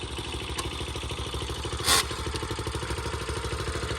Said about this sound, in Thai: ยิ่งเร่งเครื่องก็จะยิ่งเร็วขึ้นนะคะ